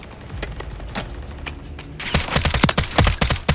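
Rapid gunfire in Call of Duty Modern Warfare 3 multiplayer, scattered shots at first, then dense bursts of automatic fire cracking repeatedly in the second half, loud and close.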